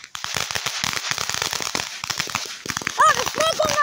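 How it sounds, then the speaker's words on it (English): Fireworks crackle rapidly in dense bursts of sharp pops at an Independence Day firework show, loud and close, with a few whistling tones and a voice near the end. "The firework might light it, right?"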